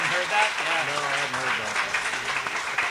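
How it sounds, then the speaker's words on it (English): An audience applauds in tribute to a late artist, a sustained wash of many hands clapping in a hall while a voice speaks over it. "and give him an applause"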